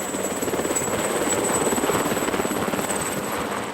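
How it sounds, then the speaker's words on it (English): Rescue helicopter arriving high on Mont Blanc, a steady rapid rotor chop that stays loud and continuous with no voices. "The helicopter arrives with Dr."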